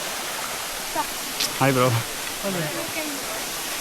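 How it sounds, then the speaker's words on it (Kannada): A small waterfall on the Nethravathi trek rushes in a steady, loud, unbroken wash, and a voice briefly greets someone over it. "ಚಿಕ್ಕದು ವಾಟರ್ ಫಾಲ್ಸ್ ನೋಡುವ"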